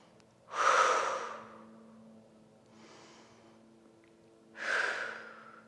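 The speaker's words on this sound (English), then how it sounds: "A couple deep breaths." Deep breathing during a reformer Pilates session: two long, loud breaths near the start and end with a softer breath between, heard alone against a steady low hum.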